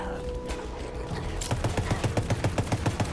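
Machine gun firing in the video game Borderlands 3, a loud, fast, steady burst of rapid shots starting midway and continuing to the end, after a softer ambient game bed.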